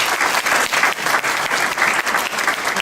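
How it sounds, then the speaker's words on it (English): A crowd applauds at a Filipino-American community gathering in Pittsburg, a dense, close burst of hand clapping sustained evenly for a few seconds with no talk over it. "Give yourself a round of applause."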